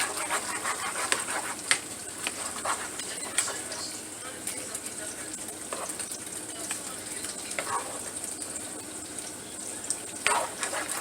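Cheese for mac and cheese melting and cooking in a pan, a soft steady sizzle with occasional stirring scrapes and clinks, faint and close, with a voice talking over it.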